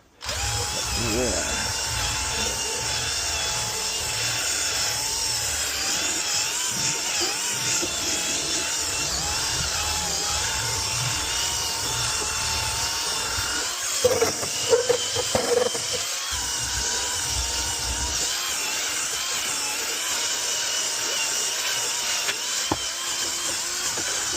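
A power drill fitted with a scrubbing brush whirs steadily for a long stretch while cleaning a dirty Tesla car interior, with brief scrubbing bursts and a few knocks partway through.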